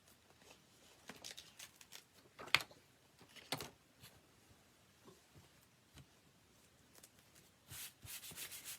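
A terry cloth and microfiber fuzzing cloth rubs over a chalk transfer in short, quiet, irregular scrubbing strokes, close up and soft, with no talking.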